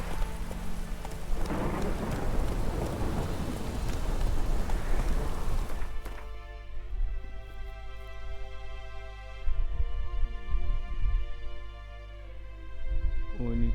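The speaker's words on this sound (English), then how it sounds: "Okay, now it's raining." Loud, dense rain and rumbling thunder in The Witcher 3: Wild Hunt fill the first half. The storm then drops away abruptly, leaving quieter tonal game sound with occasional soft thuds.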